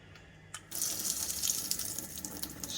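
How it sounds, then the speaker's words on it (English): A boiling-water tap in a kitchen opens with a click and gushes steaming hot water in a steady close hiss and splash that runs on without any talking. "Steaming hot water."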